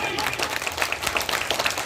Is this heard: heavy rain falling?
no